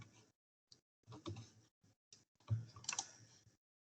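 Calculator keys pressed one after another in short, soft clicking taps with brief gaps between, close and fairly quiet, with no talking.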